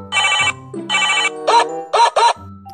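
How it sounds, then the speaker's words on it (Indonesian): A telephone ringtone plays in short repeated bursts, two longer melodic phrases followed by three quick chimes, loud and close with nothing else over it. "Sorry Ing, gua angkat telepon dulu ya."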